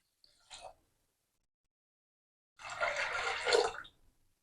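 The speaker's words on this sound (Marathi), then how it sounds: "तर या डाळीच्या 3 पट पाणी टाकायचं आहे" Water goes into soaked chana dal in a pressure cooker for puran filling: a brief splash, a pause of silence, then a sustained close pour lasting over a second; no talk.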